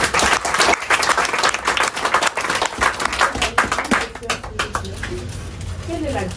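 Church congregation applauding during a sermon, a dense, loud wash of many hands clapping that fades toward the end, with speech at the edges.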